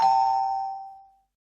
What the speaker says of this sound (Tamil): காலிங் பெல் அடிக்குது, யாருன்னு போய் பாரு.